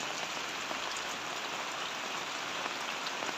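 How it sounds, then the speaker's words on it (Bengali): Rain falls steadily outside a roadside tea stall beside a small canal and fish-farm fields, a soft, even patter with no voices. "বৃষ্টি হচ্ছে"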